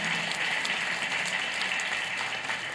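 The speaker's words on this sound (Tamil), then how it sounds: "நம்ம தட்டுற ஒவ்வொரு கைத்தட்டலும் கடவுளுக்கு தான் போய் சேரும்." Steady applause from a church congregation at a Tamil feast-day Mass, a dense, continuous wash of many hands clapping with no pauses, fairly loud and sustained throughout.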